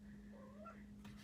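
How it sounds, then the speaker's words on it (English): A small cat gives one soft, rising-and-falling meow from the back of a quiet room over a steady electrical hum, faint and alone. "you might hear my little cat meowing in the back"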